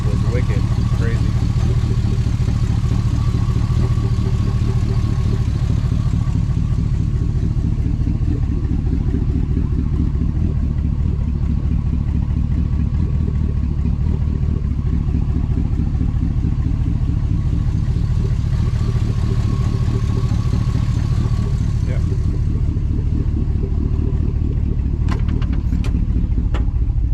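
Engine idling with cut exhaust pipes and no muffler, a loud, steady, throaty rumble that holds evenly throughout, with a few sharp clicks near the end.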